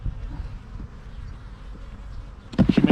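Honey bees buzz steadily around an open hive box during a beekeeper's inspection, a low continuous drone close to the microphone that swells sharply louder near the end as the bees are disturbed.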